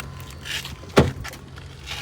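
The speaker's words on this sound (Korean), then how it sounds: "이렇게 키를 소지한 채로 문을 열면 열립니다" A Mini Countryman door unlocks and opens with keyless comfort access, one short, distinct mechanical clunk of the latch near the middle over quiet outdoor ambience, with no talking.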